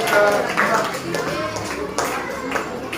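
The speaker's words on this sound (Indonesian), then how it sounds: "Beri tepuk tangan buat kelompok Sabik" Classmates clap for a student group in a school classroom lesson, a dense burst of applause mixed with chatter and voices throughout.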